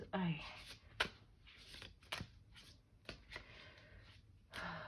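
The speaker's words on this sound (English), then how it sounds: "Let's shuffle." Cards riffled and shuffled in several quick bursts, crisp and close, with a person talking over parts of it.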